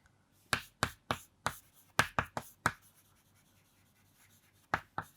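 Chalk or a marker strikes and taps on a board in sharp, separate bursts, a cluster of about eight quick strokes followed by a pause and two more, close and quiet in an otherwise silent room.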